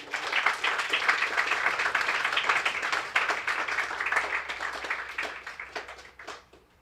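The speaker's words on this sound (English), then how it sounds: "So give him a big round of applause." An audience gives a military veteran a big round of applause at a youth breakfast, with dense, steady clapping that holds for around six seconds before tapering off at the end.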